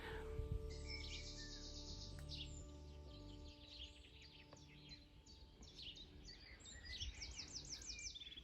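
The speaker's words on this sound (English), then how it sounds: "Waking up with all these birds sound all day long." Many birds chirp and sing at once in a tree in Brittany, a lively, continuous chorus with quick repeated tweets layered over a soft background hum.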